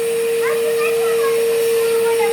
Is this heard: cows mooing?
no